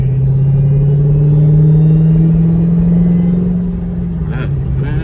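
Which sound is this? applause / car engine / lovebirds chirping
car engine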